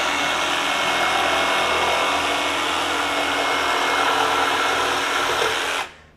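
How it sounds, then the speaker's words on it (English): A RIDGID R86344 18V brushless jigsaw cuts at a 45-degree bevel with a loud, steady high-pitched buzz. It runs alone close up and winds down abruptly at the end. "No problem powering through the 45 at all. So plenty of power from the jigsaw."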